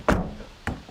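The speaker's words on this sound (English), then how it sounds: "Have a listen to this when you open and shut the door." Two hollow, thin metallic thunks about half a second apart, the door of a 2021 Toyota Yaris being opened and then slammed shut, close by with no talking.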